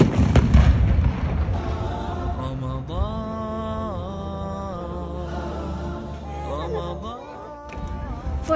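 A Ramadan iftar cannon in Dubai fires a blank cartridge with one loud, booming blast near the start, then fades under a person talking over a steady background.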